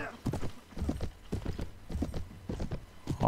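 Horses charge in the game Mount & Blade: Viking Conquest, their hooves pounding in a quick, loud, uneven clip-clop rhythm close by, with a horse neighing near the end.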